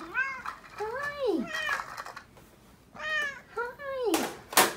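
A cat meows repeatedly at close range, several rising and falling cries in two clusters with short pauses, loud and clear in a quiet indoor craft space, with a soft scrape at the end.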